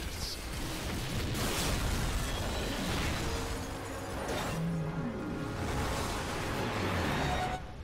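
Heavy missile explosions in Call of Duty Ghosts erupt as a dense, continuous roar of blasts and crackling debris, loud and sustained across the whole stretch with several stronger bursts rising through it.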